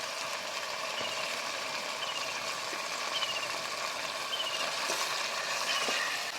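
Ginger and tomato fry in hot oil, a steady close sizzle with faint stirring scrapes and occasional soft taps, no voices.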